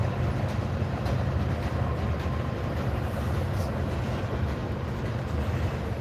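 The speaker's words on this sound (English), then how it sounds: "Just give you guys the send off with this train." A train rumbles past close by for about six seconds, a steady loud roar of wheels and cars that stays even throughout, with no voices over it.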